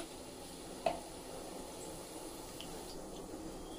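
Chana dal, mustard seeds, cumin and a dried red chilli in hot oil give a faint, steady low sizzle, with one small clink early on and a few soft pops over the hush.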